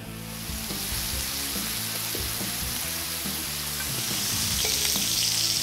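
Pork loin sizzles loudly and steadily in hot olive oil in a pan on a sloped grill, with a dense, continuous crackle and occasional stirring or shifting knocks throughout.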